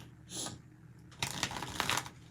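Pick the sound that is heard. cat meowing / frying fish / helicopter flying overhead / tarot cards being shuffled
tarot cards being shuffled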